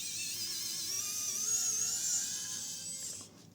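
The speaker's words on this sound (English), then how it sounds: "let me take these screws out" A high, thin electric screwdriver whine runs steadily while screws are backed out of a JBL Flip 6 portable speaker, fading out near the end, quiet and close with no voices.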